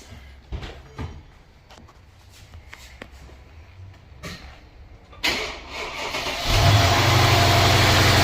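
A Mercedes CLS 550 engine cranks and catches at about five seconds, then settles into a loud, steady run close by after scattered clicks and handling noises, with no talking.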